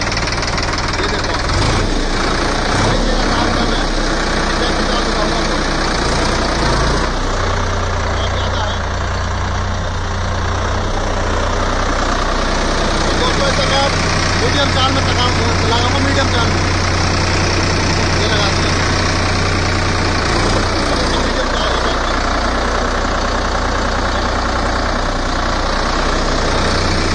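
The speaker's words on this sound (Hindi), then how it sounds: "दोस्तों इसे चलाऊंगा मैं बैक में, बैक गियर में चला करके दिखाऊंगा" A Sonalika 745 III tractor engine runs in reverse gear with a steady, close, knocking diesel chug throughout. A voice is heard at times.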